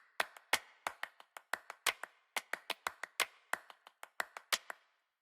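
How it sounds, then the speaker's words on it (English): A looped clap percussion sample plays, sharp hand claps in a quick syncopated rhythm with short gaps between phrases, crisp and close with no other sounds. "Claps, we have this."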